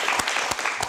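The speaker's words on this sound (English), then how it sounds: "So can you please just give a round of applause?" Audience at a campus cannabis talk giving a round of applause, a dense wash of clapping for under a second.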